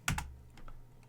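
Keyboard typing at a computer while entering a network command, two quick loud keystrokes followed by a few softer scattered taps, close and alone with no talking.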